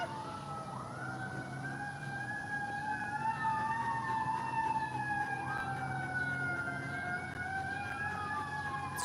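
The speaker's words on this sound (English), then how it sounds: "Hold on, there's sirens." Fire truck siren wailing in a residential neighborhood, its rising and falling tones sweeping continuously at moderate distance over a low background rumble, with no talking.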